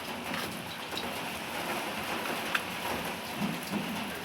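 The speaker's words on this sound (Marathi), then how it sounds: "पण आत्ता खूप छान पाऊस चालू झालेला आहे." Heavy monsoon rain pours steadily outdoors, a dense, close hiss of drops on surfaces with a low rumble underneath and a few brief sharper splashes, continuous with no voices.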